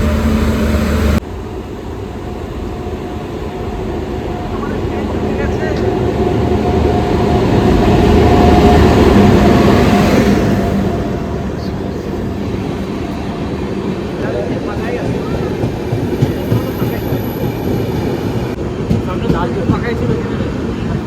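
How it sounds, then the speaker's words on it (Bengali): A passenger train pulls into a station on the way to the Sundarbans, a broad rumbling roar that builds to a peak and then eases into a steadier hum, with people talking over it. "চলুন, ট্রেন আসছে, ট্রেনে চাপি"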